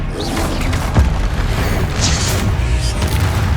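Spell impacts from the Hogwarts Legacy video game, dense booming bursts and whooshing blasts layered over continuous battle noise, loud and close throughout.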